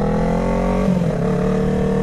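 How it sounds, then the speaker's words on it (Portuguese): A big truck passes on the road, its heavy engine rumble loud and continuous, swelling slightly at the midpoint as it goes by. "Caminhãozão louco, só porque eu parei aqui bonitinho."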